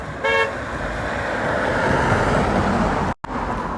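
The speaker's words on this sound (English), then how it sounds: "Honk for Trump!" A car horn toots once briefly at a street protest, then steady road traffic rolls past close by with a continuous engine and tire rumble and a short abrupt dropout near the end.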